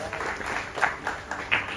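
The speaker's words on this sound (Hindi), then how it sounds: "ताली बजा सकते हो ब्रदर के लिए" An audience applauding at a talk gathering, a steady patter of clapping hands from a modest crowd, continuous and moderately loud with a voice talking over it.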